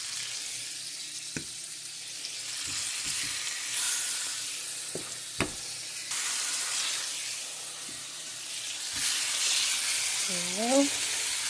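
Fish frying in a pan of curry sauce, a steady close sizzle with a few sharp clinks and splashes as the pieces go back in, a short voiced sound near the end.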